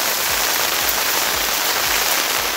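Heavy rain pouring down in Karachi, a dense, steady hiss that stays loud and unbroken throughout, with no voices.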